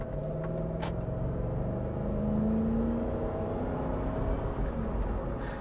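A Lexus GX 470 SUV accelerates smoothly, heard from inside as a low steady engine rumble and faint whir with pitch gliding gradually upward, quiet and even throughout.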